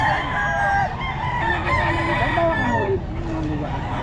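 Roosters crowing and hens clucking at a poultry sale during a festival expo, several overlapping drawn-out crows close by amid a noisy crowd.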